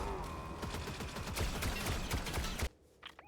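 Rapid bursts of gunfire in Fortnite rattle close and loud for over two seconds, then cut off abruptly, leaving a few faint mechanical clicks.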